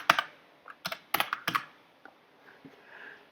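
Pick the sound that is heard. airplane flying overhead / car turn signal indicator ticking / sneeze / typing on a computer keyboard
typing on a computer keyboard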